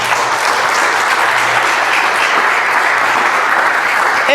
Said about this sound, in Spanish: Ríndale fuertes palmas al Rey.